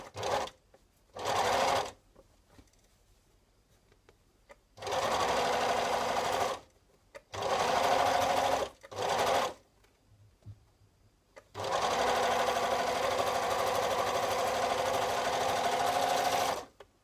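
A sewing machine stitches a trouser side seam closed, running in several loud, steady bursts of whirring, some brief and some several seconds long, separated by quiet pauses.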